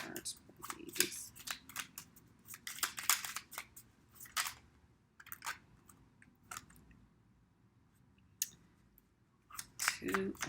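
Playing cards are dealt in quick crisp snaps and flicks, close by in a quiet room, coming in short bursts separated by pauses.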